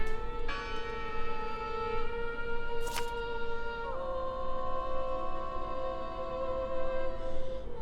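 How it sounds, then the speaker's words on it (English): Church bell ringing in the video game Draugen, sustained metallic tolling tones with a sharp strike partway through, heard fairly distantly and alone. "No, Listen! The bell! They're still in there!"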